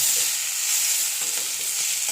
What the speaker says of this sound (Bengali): এই দেখো, কাঁচা লঙ্কা ফোড়ন দিয়ে আলুগুলো একটু ভেজে নিচ্ছি